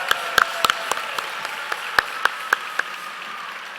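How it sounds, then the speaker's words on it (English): An audience at a school district's excellence celebration applauds honored schools with a thin, scattered round of clapping, a few sharper individual claps standing out over a soft background wash. "Let's give them a round of applause"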